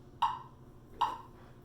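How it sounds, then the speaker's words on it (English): Two sharp, evenly spaced clicks about three-quarters of a second apart, a steady metronome tick over a quiet background. "put the metronome on"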